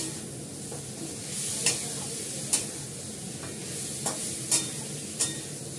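Meat and spices being sautéed in a pan with a steady, close sizzle and occasional sharp scrapes of a stirring utensil against the metal, with no voices.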